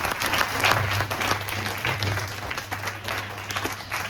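Audience clapping for a children's summer-camp drama about Swami Vivekananda at Ramakrishna Ashram, Mysore, a dense, moderately loud wave of applause that swells early and gradually thins, with a low hum underneath.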